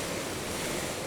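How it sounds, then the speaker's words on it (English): Ocean waves crash against rock on the coast of Madeira, a brief, dense roar of surf and spray heard close and continuous. "when the waves crash, they also give a lot of like power to the photograph, because the water springs up"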